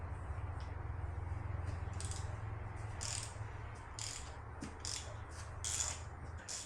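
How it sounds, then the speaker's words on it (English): Bolts being loosened on a Honda NC750X motorcycle with a ratchet: faint, repeated clicking bursts spread unevenly across the stretch, with a low steady hum underneath and no talking. "The first order of business was loosening the bolts"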